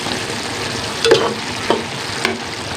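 Adobong sitaw, string beans in adobo sauce, is stirred in a frying pan, giving a steady sizzle with a few distinct scraping clinks of the utensil against the pan.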